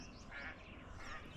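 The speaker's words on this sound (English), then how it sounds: "Ducks." Ducks quack faintly in the distance on a frosty, sunny morning outdoors, a couple of short calls over quiet background hiss.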